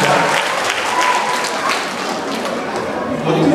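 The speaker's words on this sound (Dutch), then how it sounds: "Applaus voor het podiummannetje." An audience claps for a podium mascot at an event, the clapping dense at first, then thinning slightly and swelling again, with voices chattering underneath.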